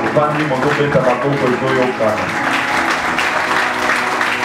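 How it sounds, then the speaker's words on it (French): A church congregation claps and cheers in praise, a dense, loud wall of applause sustained throughout, with voices calling out and singing mixed in. "Est-ce qu'on peut acclamer le Seigneur?"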